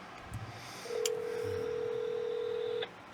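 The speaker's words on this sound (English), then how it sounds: "I'm about to right now see if I can get Mr. Axis on the line." A single steady telephone keypad tone sounds for about two seconds, clean and even, after a few faint knocks.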